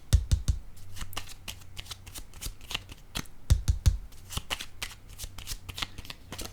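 Tarot cards riffled and shuffled in two bursts, with soft slaps as cards are laid down on a table, close and fairly quiet, with a low steady hum underneath.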